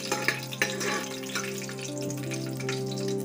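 Rice stirred and roasted in a pan for Marathi coconut rice (narali bhaat), a steady sizzle with scraping spoon strokes and a few clinks, close and continuous.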